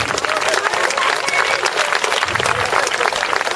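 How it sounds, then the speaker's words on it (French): A crowd at a team presentation for the 2011 French national agility squad applauds with loud, dense, continuous clapping that fills the whole stretch. "On peut aussi applaudir les absents."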